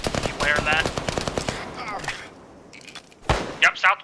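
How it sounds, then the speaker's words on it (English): Bursts of automatic gunfire in the ArmA 3 military game, a rapid volley of sharp shots up front that trails off, then a few louder separate cracks after a short lull, with faint radio chatter mixed in. "I'm hearing gunshots out to our southwest"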